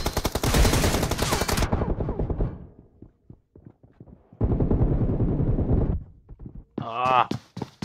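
Video game gunfire comes in dense rapid automatic bursts, loud and close, with quieter gaps between them. Someone talks between and over the shots.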